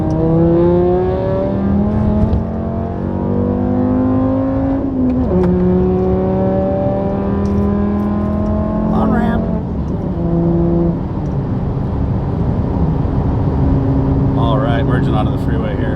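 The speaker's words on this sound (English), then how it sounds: "Onto the freeway here" Volkswagen car with a 2.5 engine accelerates up a freeway on-ramp, the engine note climbing through gears in rising sweeps under continuous talking from inside the cabin.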